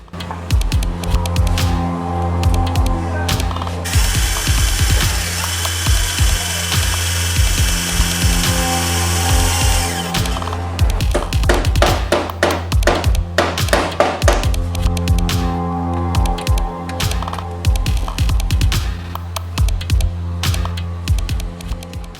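Continuous power drilling to remove stuck dowels from a Corolla AE91 transmission, with a steady low hum, punctuated by sharp clanks and metal knocks, loud and close throughout.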